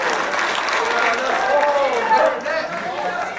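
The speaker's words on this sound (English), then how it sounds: "Give them all a round of applause" Sustained audience applause at a high school jazz concert, steady and full with crowd noise mixed in, holding throughout before easing slightly at the end.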